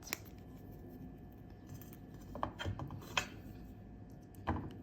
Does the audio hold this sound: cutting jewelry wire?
yes